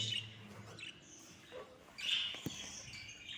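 Soft, high chirps and peeps from breeding birds, parents together with their chicks in a rearing facility, scattered and fairly faint over a quiet background with no talking.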